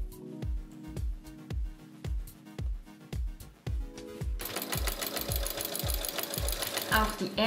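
A sewing machine stitches knit cuffs onto a baby bodysuit, running in steady rapid bursts of mechanical thumping that shift to a denser, brighter whirr partway through, close and loud with no talk.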